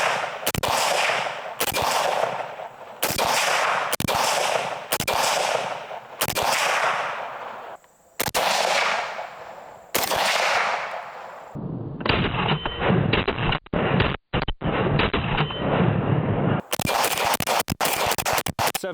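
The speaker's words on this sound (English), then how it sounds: "Which target were you shooting at?" Rifle gunfire from an FN SCAR aimed at targets on a range: about eight loud, sharp reports spaced a second or so apart, each with a ringing tail, followed by a stretch of dense crackling and a few more closely spaced shots at the end.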